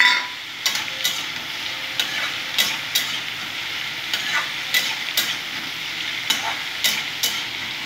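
Ridge gourd and potato frying with green chilli in a pan: a continuous soft sizzle with regular scraping knocks from stirring, close up and with no voices.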